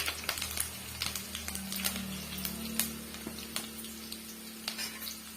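Curry leaves and asafoetida fry in hot oil for mango pickle after the stove is turned off, giving a close, steady crackling sizzle with frequent sharp pops and a low hum beneath.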